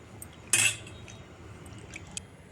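Steamed, peeled potatoes mashed for aloo matar: one sharp, loud metal clank against a pot, followed by faint soft taps and small clicks in a quiet kitchen.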